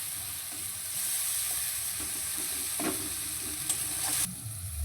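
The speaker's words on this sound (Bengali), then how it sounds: "এবার আমি মশলাটা কিছুক্ষণ সময় নিয়ে কষিয়ে নেব।" Ground spice paste of cumin, ginger, onion and dried chilli frying in a pan for a Bengali rohu fish curry, a steady close hiss and sizzle with a few soft stirring scrapes, no talking.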